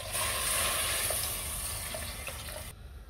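Water poured into a pot of frying garlic, ginger, onion and carrots for chicken corn soup, a steady rushing hiss and sizzle that cuts off abruptly near the end, with no talking.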